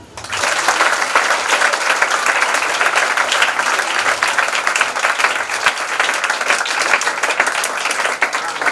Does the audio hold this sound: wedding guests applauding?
yes